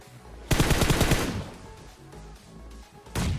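Rapid automatic gunfire from a video game, loud bursts of closely spaced shots for about a second, then trailing echoes and a quieter game backdrop before another burst starts at the end.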